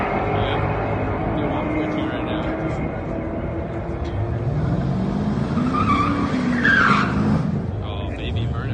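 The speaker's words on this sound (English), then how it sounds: "Oh, baby burnout, dude." Tires squeal continuously and loudly as an LS1-powered, TH400-swapped third-generation Camaro does a burnout, the engine roaring beneath the screech, which rises in pitch near the end.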